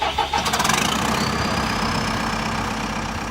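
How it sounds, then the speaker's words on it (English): A CAT track-type tractor's diesel engine cranks and catches, then settles into a loud, steady rumbling idle close by. "if we go over into the Eco Mode and we cut the tractor on"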